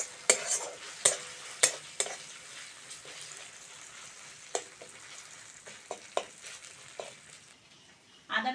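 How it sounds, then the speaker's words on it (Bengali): Ginger, garlic and onion fry in a pan with a soft, low sizzle, while sharp scrapes of a spatula stirring the mix land at irregular intervals, close and clear, with no one talking. "আদা রসুন পেঁয়াজ ভালো করে ভেজে নিয়েছি"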